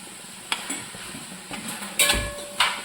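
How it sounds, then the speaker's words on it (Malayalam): Ground masala is stirred into half-cooked chicken in a pan for Karaikkudi kozhi kulambu. A spoon clinks and scrapes against the metal pan in several separate strokes, with a faint sizzle underneath. "നന്നായിട്ടൊന്ന് മിക്സ് ചെയ്യണം"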